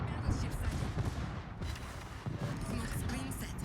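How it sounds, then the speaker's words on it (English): Dense, continuous rumble of naval gunfire from a warship's rear turrets in World of Warships, heavy booms blending into a roaring battle bed with no clear separate shots. "We'll just use the back 2 turrets here and fire a couple shells into Oregon."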